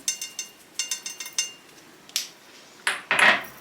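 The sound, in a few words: stirring food in a pot with a utensil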